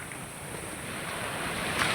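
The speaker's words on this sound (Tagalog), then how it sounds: "Malakas yung alon." Strong surf rushes and washes continuously onto a beach in Iba, Zambales, a broad roaring hiss mixed with wind noise and no speech.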